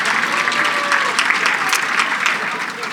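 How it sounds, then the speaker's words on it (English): An awards-event audience claps in a steady, moderately loud round of applause lasting a few seconds, with faint voices mixed in. "Give them a round of applause as well for being here."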